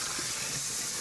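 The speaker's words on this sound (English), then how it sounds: "you need to really rinse it well under cold water before you move on" Gluten-free pasta being rinsed under a cold kitchen tap, a steady, close, full hiss of running water splashing over it with no break.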